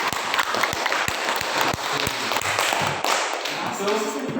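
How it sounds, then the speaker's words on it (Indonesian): A classroom of students applauds a presenting group, with a dense wash of clapping and a few distinct louder claps and taps near the start, steady and close throughout. "Tepuk tangan untuk kelompok."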